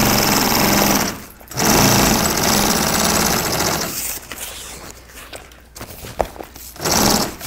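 Sewing machine stitching a Bimini top for a 38-foot Sea Ray boat, its loud, close, rapid needle chatter running in two long bursts with brief pauses, then quieter handling sounds and a final short burst.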